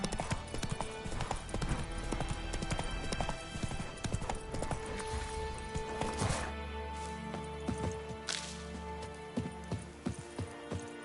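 Roach the horse galloping in The Witcher 3, a steady rhythmic clip-clop of hooves throughout, close and fairly loud, with occasional clatter and faint in-game sounds mixed in.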